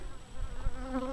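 A swarm of honey bees hangs in an oak tree near a bee yard, giving a close, sustained droning buzz with wavering pitch throughout.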